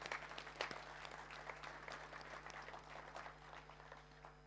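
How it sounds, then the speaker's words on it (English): A roomful of people applauds at a talk, steady crowd clapping that stays quite faint and distant over a low constant hum. "So I think you should give yourself a big hand of applause,"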